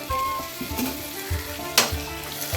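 Chopped tomato goes into onions already sautéing in a pan, giving a steady close sizzle with soft stirring scrapes and one sharper clatter partway through, and no talking.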